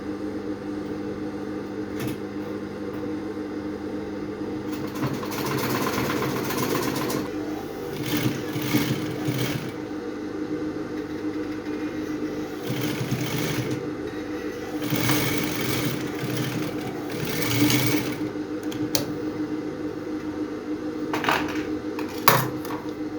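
A sewing machine stitches sheer fabric for a corset, its steady motor whir running nearly the whole time and breaking into several bursts of faster stitching, close and moderately loud, with small clicks and handling noises between bursts.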